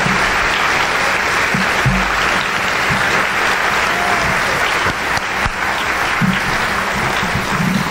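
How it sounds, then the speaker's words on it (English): Steady, loud applause from a school audience at a high school academic awards program, a dense wash of many hands clapping continuously with a few louder thumps near the microphone. "So, give them a round of applause."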